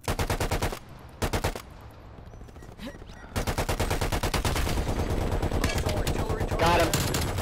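Rapid automatic gunfire in a video game rattles out in loud, dense bursts, first short volleys broken by brief pauses, then a long continuous stream of shots.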